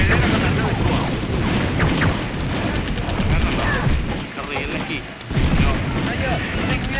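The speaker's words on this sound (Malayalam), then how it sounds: "അങ്ങനെ ഗ്രനേഡ് എറിയണേ." Grenade blasts and gunfire in the Mini Militia mobile shooter game, a dense, continuous barrage of booms and shots that keeps up loudly for the whole stretch, with a brief dip before another burst.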